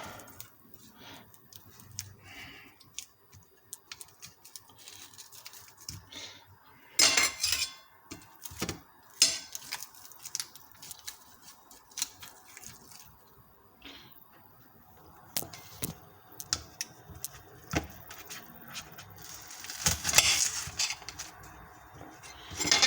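Knife chopping a red onion on a board in a quick home kitchen cooking challenge, with uneven bursts of close chops, clinks of utensils and dishes, and brief pauses, no talk.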